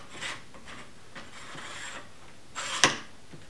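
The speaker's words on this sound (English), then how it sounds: "in this take, you see it was kind of making a weird metal on metal noise" Scraping metal-on-metal rasps and a sharp click from the leg lock of a Nash Indulgence Hi-Back folding chair, faint and close, with a few brief grinding strokes followed by one louder snap.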